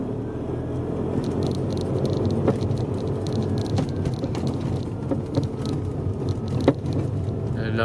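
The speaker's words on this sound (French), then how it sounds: "la vis vient à taper dans la ferraille et c'est ça qui me crée une zone de résonance très très forte" Audi A3 driving with a loose screw knocking against metal makes scattered sharp rattling clicks over a steady rumble of road and cabin noise, fairly loud and continuous.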